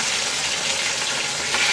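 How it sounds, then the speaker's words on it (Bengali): Pieces of rohu fish frying hard in oil in a pan, a loud, steady sizzle and crackle up close, swelling slightly near the end. "মাছগুলো একদম লাল করে ভেজে নেব, কারণ আমার কাছে কড়া মাছ ভাজা অনেক ভালো লাগে।"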